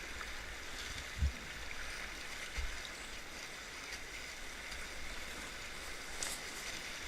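East Sandy Creek in Pennsylvania running over shallow riffles, a soft, steady wash of water that carries on evenly throughout, with a couple of faint low knocks early on.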